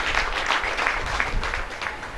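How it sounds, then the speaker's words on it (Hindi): Crowd at a ration kit distribution event giving loud, sustained applause, dense overlapping claps from many people filling the space evenly throughout, with no speech on top. "एक बार जोरदार तालियां हम सबकी ओर से"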